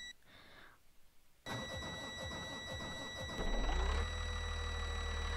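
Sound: bus engine starting in Rigs of Rods video game

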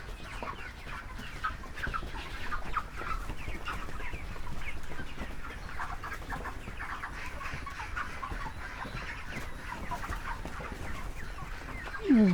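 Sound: chickens on a poultry farm

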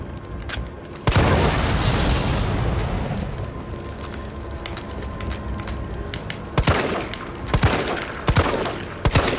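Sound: gunfire in video game Resident Evil 3

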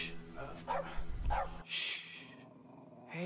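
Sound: dog barking

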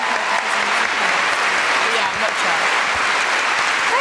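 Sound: audience round of applause

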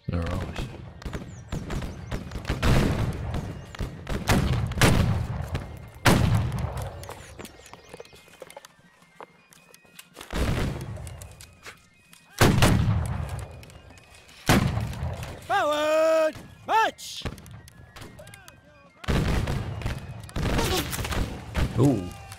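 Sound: gunshots incoming in the video game Battle Cry of Freedom

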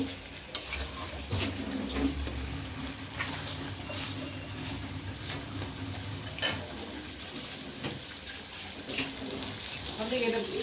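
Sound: meat being fried with spices in a pan

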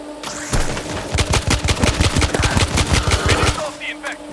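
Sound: machine gun fire in the video game World War Z

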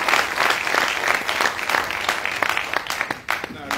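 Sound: crowd applause for the president

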